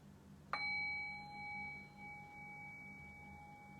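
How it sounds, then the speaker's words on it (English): A meditation bell is struck once, giving a clean metallic strike followed by a long, steady ringing tone that slowly fades in a quiet room. "I'll ring the bell and we're into the practice"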